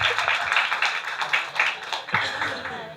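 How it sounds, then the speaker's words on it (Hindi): Audience clapping at an ISKCON gathering in Bhusawal, a few seconds of scattered, moderately loud applause in a hall. "जोरदार ताली माता जी के लिए।"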